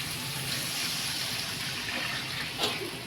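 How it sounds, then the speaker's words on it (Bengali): Water is poured into a pan of fried, oil-released spice paste for a fish curry, giving a steady, close rushing splash that holds for a few seconds with no talk. "আমি এখন জল দেব।"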